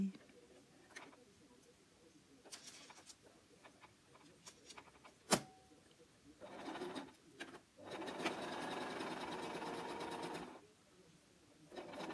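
A sewing machine stitches a small patchwork pincushion made of fabric squares, with a few short whirring runs and light clicks, then a longer steady stitching burst near the end, close and fairly quiet.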